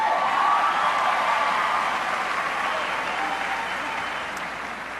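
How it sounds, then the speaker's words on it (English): Graduates and families at the 2011 Townview Magnet Center commencement in Dallas applaud, a broad, sustained wash of clapping from a large indoor crowd that tapers slightly toward the end. "give yourself a round of applause"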